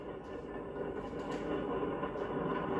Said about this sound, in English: There goes the fast freight train from Kansas City to Chicago.